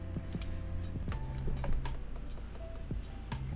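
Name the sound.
keystrokes testing a newly built mechanical keyboard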